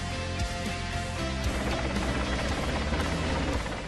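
A helicopter airlifting another helicopter, its rotor and engine making a steady loud droning whir that stays constant throughout with no voices.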